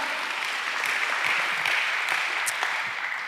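A congregation at a church worship service gives a round of applause, many hands clapping in a dense, even roar that holds steady and fades slightly at the end, with no voices.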